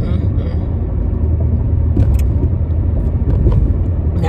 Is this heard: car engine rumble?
yes